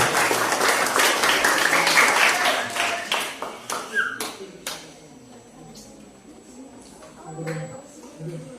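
An audience at a school principal's handover ceremony gives loud, dense applause that thins into scattered individual claps and fades out, after which faint voices and room noise remain.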